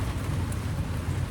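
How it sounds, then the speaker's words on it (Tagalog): Heavy rain pours down as a steady, dense wash of noise with a low rumbling undertone, continuous and fairly close with no talking. "Sobrang ulan. As you can hear na naman mga palangga. Sobrang na ulan masyado."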